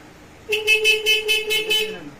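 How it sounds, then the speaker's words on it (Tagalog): A Kymco Xciting VS 400 motorcycle horn honks in a rapid series of about six short, bright beeps, loud and close, with no talking. "Ayan, busina natin."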